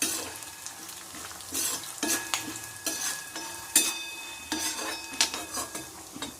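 Coriander seeds frying in a pan for Andhra-style yellow cucumber chutney, a steady close sizzle broken by repeated scraping stirs and light clinks of a spoon against the pan.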